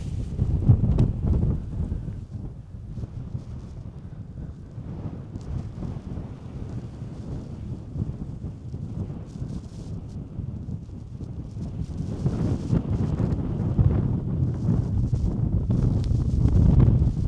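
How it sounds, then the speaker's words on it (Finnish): Strong wind buffets the microphone on a hike through a quiet Finnish wilderness, a steady roar and rumble that surges louder toward the end. "Kylläpä oli tuuli tuossa"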